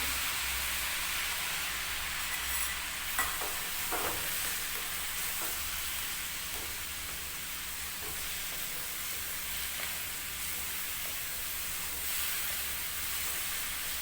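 Vegetable curry sizzling in a pan on a home kitchen stove after a salt and chili mix is added, a steady hiss of frying with faint scraping and stirring clicks scattered throughout, no voices.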